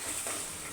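Brief, soft swishing and scraping as a spoon stirs a cooking mixture with three spoonfuls of yogurt added, steady and close.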